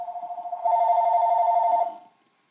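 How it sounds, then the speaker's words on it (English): A telephone rings loudly and close by, a sustained electronic trill that warbles rapidly, swells after a moment, then cuts off and fades, with no talking over it. "Okay, ignore that phone ring."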